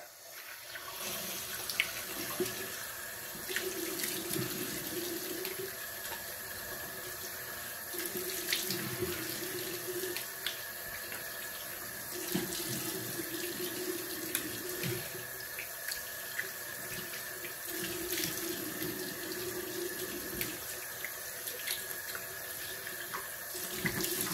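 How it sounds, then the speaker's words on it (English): Water from a bathroom faucet runs steadily into a sink while a straight razor blade is rinsed, a continuous close hiss broken by occasional splashes and shifts as the blade and hands pass through the stream. "Rinse the blade off a little bit and rinse my face."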